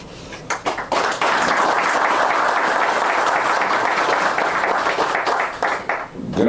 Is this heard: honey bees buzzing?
no